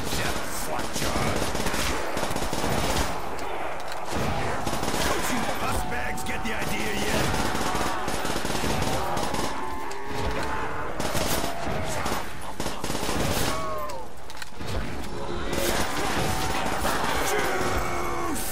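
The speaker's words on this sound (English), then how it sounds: "I like pretty much any other machine gun better than the bar itself." Rapid automatic BAR machine gun fire in Call of Duty Zombies rattles in repeated bursts throughout, loud and close, layered with game effects and a voice talking over it.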